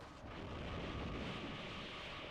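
A weapon fires in the video game Planetarian with a deep, rumbling thunder-like blast that swells and lingers as a steady low roar, alone and fairly faint.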